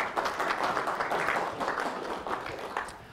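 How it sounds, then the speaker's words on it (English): A room of driving instructors applauding themselves, a fairly soft, even patter of many hands clapping that thins slightly toward the end. "Go on, give yourselves a round of applause."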